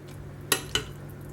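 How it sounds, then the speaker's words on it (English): Two quick clinks of a spoon against a dish, about a quarter second apart, as sweetcorn and pepper flan filling is spooned into pastry bases, close and clear over a low steady background hum. "So I'm just going to spoon these in and fill them up"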